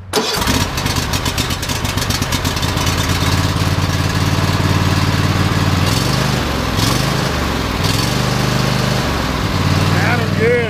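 The engine of a Cub Cadet XT1 LT50 riding lawn mower starts for the first time with the choke pulled, catching quickly and then settling into a loud, close, steady idle. Voices are heard during it.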